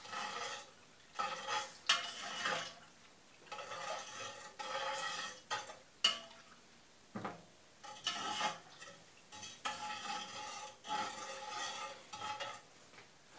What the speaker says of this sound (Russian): Можно чуть помешать, конечно.